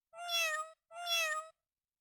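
Two loud, clean meows from a Chicco bilingual toy telephone, each about half a second long with a short pause between them, electronic and alone.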